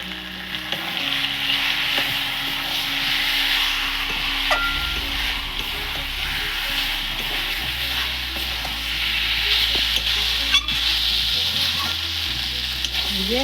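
Meat fries with chili powder in a pan, sizzling steadily up close while a spatula scrapes and stirs in slow, repeated strokes, with a few sharper clinks along the way.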